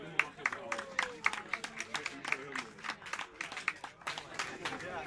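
Audience applause with scattered claps and a steady patter of hands for three winners at a Zevenhuizen multi-day event, heard close with people talking over it.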